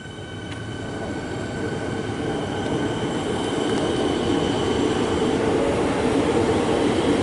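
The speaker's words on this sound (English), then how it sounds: "It's a very shiny looking Siemens train." A Siemens electric train rolls into Parkdale station in Melbourne, a rising rumble of wheels and rail noise growing louder and closer throughout, with faint high squeals from the wheels and no talking.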